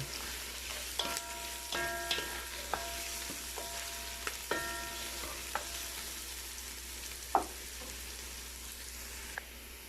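Onions and garlic frying for spicy pork adobo, with a soft, quiet sizzle under repeated clinking taps of a spatula against the pan and a few sharper scrapes.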